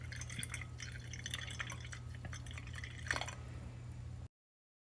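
Hot water at 185 degrees Fahrenheit poured into an AeroPress coffee maker on a scale, a soft, close trickle and splash that runs quietly over a low steady hum before cutting off.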